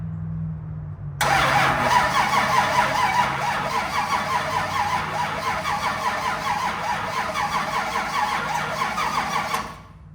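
A pure stock race car engine cranks over, a loud, rapid, rhythmic starter whirring and chugging that starts abruptly after a low hum and runs steadily for about eight seconds without catching before stopping.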